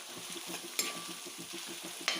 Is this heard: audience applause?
no